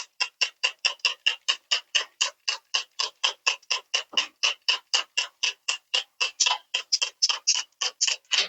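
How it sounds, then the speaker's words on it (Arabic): A trigger spray bottle filled with water, vinegar and plain soap is pumped into an air conditioner's indoor fan and inner parts. It makes a close, steady run of about thirty short, crisp squirts in quick, even rhythm, with no talking. "هنجيب بخاخه فيها شويه ميه بخل بصابون عادي جدا، وهنرش في الحتت اللي هي جوه دي"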